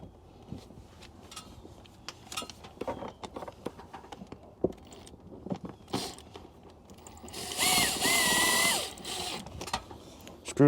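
A power drill drives screws into a wall while an outdoor access point is mounted, with close ratcheting clicks and mechanical chatter, then a steady high whine from the drill running for about a second.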